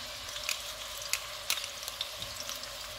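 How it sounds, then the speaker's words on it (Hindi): Chicken mince frying in hot oil with ginger-garlic paste on a medium-high flame, a steady close sizzle with scattered crackles and stirring clicks, no talking. "कीमे का कलर चेंज होने तक इसको पकाएंगे।"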